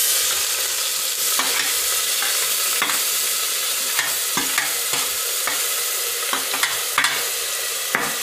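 Steady oil sizzle as onions fry in a pan, with scattered clicks and scrapes from stirring, close and fairly loud, no voices.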